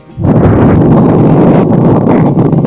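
Strong wind at Lohagad Fort roars steadily against the microphone, loud and continuous with low rumbling buffeting throughout.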